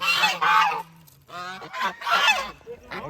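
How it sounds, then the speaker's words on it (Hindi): Ducks being fed give loud, close honking calls in a few bursts with short pauses, squawking excitedly near each other. "देखो बत्तखों को खाना डाला जा रहा है"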